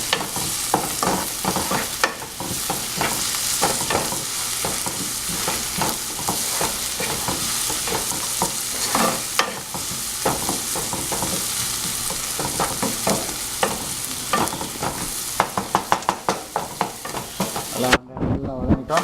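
Onions sautéing in a pan for kothu parotta, a steady close sizzle with frequent scraping and stirring clatter throughout, more rapid spatula taps near the end.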